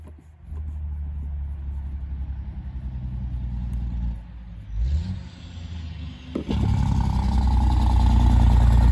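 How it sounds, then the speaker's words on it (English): Road traffic passes by outdoors near a Jeep Wrangler under repair, a steady engine drone with a vehicle swelling past midway and a louder, nearer one roaring by at the end. "A lot of traffic going by today."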